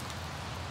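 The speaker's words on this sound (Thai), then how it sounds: "ก่อนพาต้นขึ้นไปหลบฝนบนศาลาเล็กๆริมทางได้ทันก่อนที่ฝนหายใหญ่จะสาดลงมา" Heavy rain pours down near a small roadside pavilion, a dense, steady, close hiss of falling water with no let-up and no voices.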